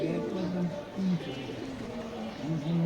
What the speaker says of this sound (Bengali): অলরেডি কবুতর থর দেওয়া হয়ে গেছে